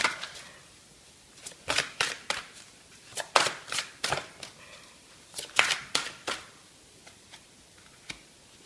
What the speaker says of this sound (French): j'arrive même pas à brasser les cartes